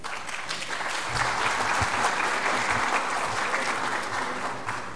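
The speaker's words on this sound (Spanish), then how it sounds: "ambos les damos la bienvenida con un aplauso" Sustained audience applause welcoming speakers at a university science talk, a steady dense clatter of many hands filling the room at moderate loudness with no speech over it.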